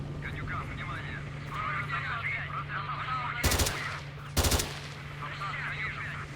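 Two short bursts of rapid gunfire in the video game S.T.A.L.K.E.R.: Shadow of Chernobyl crack out, each lasting under a second, over a steady background hum while people chatter faintly.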